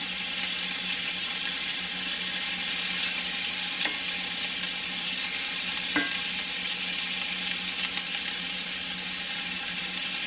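Meat fries undisturbed in a cast iron skillet with a steady, even sizzle and hiss throughout, and a couple of faint clicks, close by with no talking.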